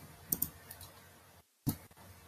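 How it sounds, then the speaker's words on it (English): Someone typing on a computer keyboard in the background of an online webinar call: a few faint, sparse clicks and taps, with a brief dropout to silence midway and a sharper tap right after it. "I can see the background noise that you're typing."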